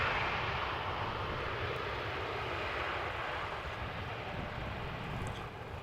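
An airliner lands at Amsterdam Schiphol Airport, producing a steady, loud, broad jet roar that holds for several seconds and eases slightly toward the end, with no voices.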